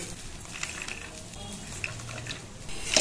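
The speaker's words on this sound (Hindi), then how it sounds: "ये मखाना बोलता है ना, तो इसको भी फ्राई करना है" Makhana (fox nuts) frying in oil in a kadhai: a soft, continuous sizzle with scattered light scrapes and clinks from stirring, ending in a brighter metallic clatter.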